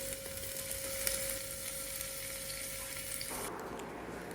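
Garlic, crushed ginger, onion and shallots with salt sizzle steadily in a hot pan for chicken curry, a continuous close frying hiss with faint stirring and no talking.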